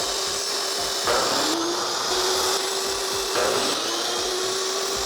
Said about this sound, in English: the little burrs from cutting it on the miter saw